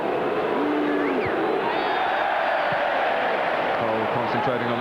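Arsenal fans in a packed stadium at an FA Cup fifth-round match against Chelsea in 2001, their steady crowd roar and applause filling the background while a commentator talks over it.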